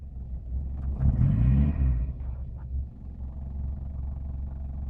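A Subaru engine fitted with a SunFoil carburetor starts up and runs after sitting unused for a month: a low rumble that swells as it catches around the first two seconds, then settles into a steady running drone.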